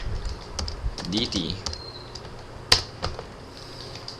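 Code is typed on a computer keyboard, scattered quick key clicks with one sharper tap midway, close, while a voice speaks briefly.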